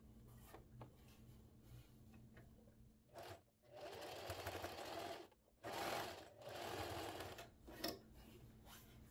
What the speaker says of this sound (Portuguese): E vou passar uma costura aqui.